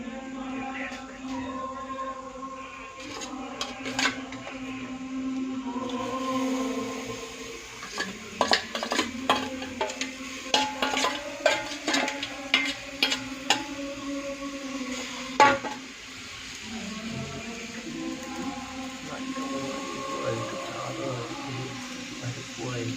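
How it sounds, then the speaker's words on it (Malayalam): Washed dried anchovies are stirred into a spice paste in a pan, with a metal spoon scraping and clinking against the pan in bursts over a faint sizzle, while someone talks between the stirring. "നത്തോലി കരുവാട് അരപ്പുമായിട്ട് ഒന്നിക്കുക."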